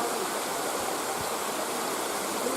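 The Two Sisters waterfall near the village of Tenginka, heard as a steady, close rush of falling water, an unbroken hiss that stays even for the whole stretch with no talk over it.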